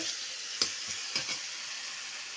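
Ginger garlic paste hits a pan with softened tomato for a mixed vegetable curry and sizzles steadily, with two or three brief scraping stirs cutting through the hiss.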